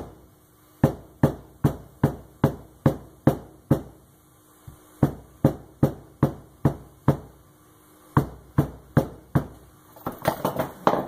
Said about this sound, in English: the nice thing about a cobbler's hammer is it has the other end